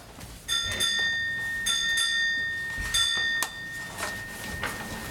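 A ship's bell strikes five bells aboard a vessel in paired metallic rings, two quick pairs and a single stroke, each with a bright sustained ringing tail, fairly close over a low background hum.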